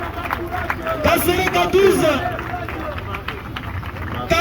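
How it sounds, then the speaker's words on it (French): A crowd at a football ground cheers and claps as a player is presented, a busy wash of applause and shouting voices behind someone speaking loudly over it, swelling slightly midway. "L'acclamation s'il vous plaît."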